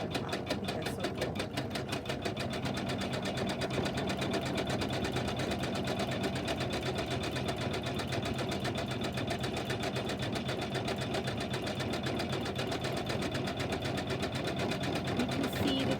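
An embroidery machine stitches a lighthouse quilt block, giving a steady rapid mechanical clatter of needle strikes with a constant motor hum, close and continuous from start to finish.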